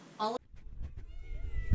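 A house cat gives a single short, clear meow near the start, followed by quiet indoor room noise and faint rustling.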